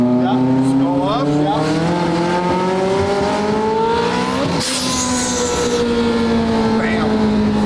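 A 1300 wheel-horsepower McLaren 720 GTR engine accelerates hard, loud and close, its pitch climbing steadily through a gear with a brief shift break. Someone talks faintly over the roar.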